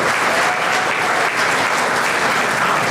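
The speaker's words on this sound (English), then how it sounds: "So give yourselves a round of applause" A keynote audience breaks into loud, sustained applause, dense and steady throughout with no talk over it.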